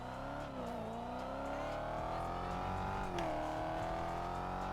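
A heavy police car in GTA 5 speeds up hard, its engine note rising and dipping with the gear changes in a loud, continuous whine, with no talk over it.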